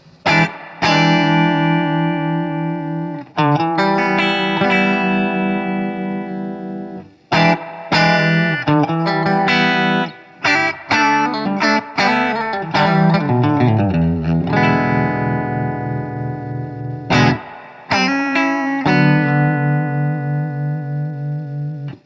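Electric guitar played through a Fulltone Deja 'Vibe pedal on its vibrato setting, sustained chords and single notes wavering in pitch, loud and continuous with brief pauses between phrases.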